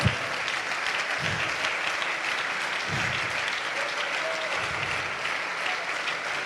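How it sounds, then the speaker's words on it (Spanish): Sustained applause from a large church congregation fills the room, steady and dense throughout, with a few low thumps and murmurs underneath. "Si ese aplauso es para él, de lo más fuerte."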